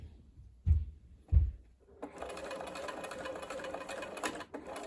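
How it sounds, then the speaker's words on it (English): A sewing machine straight-stitches across the pleats of a doll school dress: two soft thumps, then a steady close whirring run of stitching for the rest of the clip. "Straight stitch, you don't even need to back stitch across those pleats."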